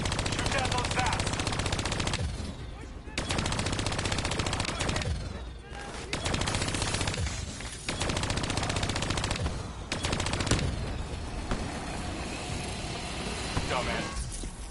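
Rapid automatic gunfire from a PS4 shooter game rattles in long, dense bursts with brief pauses, loud and continuous, with a speaking voice in the game mix over the shooting.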